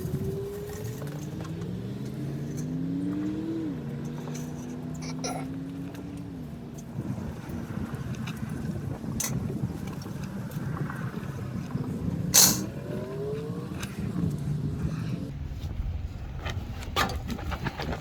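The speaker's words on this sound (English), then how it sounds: "There's a lot of vehicles going by as well." Vehicles pass one after another on a nearby road, engine tones rising and falling, under steady wind noise.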